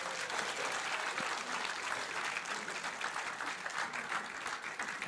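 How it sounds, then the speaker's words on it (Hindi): Steady applause from a mushaira audience during a studio debate show, a continuous, even wash of many hands clapping at moderate loudness that holds throughout. "उसके लिए जरा ताली बजा दीजिए मुशायरे के लिए।"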